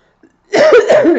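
A single loud, close cough burst after a brief moment of silence, raspy and chesty, lasting under a second.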